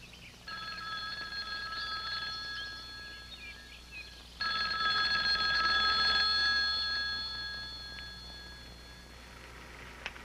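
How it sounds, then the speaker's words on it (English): A telephone bell rings in two long trilling bursts, the second louder and starting abruptly, with faint room ambience and no talking, in a 1972 Bigfoot documentary. "Morgan receives a phone call from a logger named Skip Wood."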